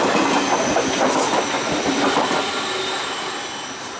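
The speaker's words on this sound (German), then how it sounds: "befinden uns auf dem Würzburger Hauptbahnhof" A train rolls through Würzburg main station in Germany, its wheels clattering rhythmically over the rails with occasional metallic squeals, loud and close, fading slightly toward the end.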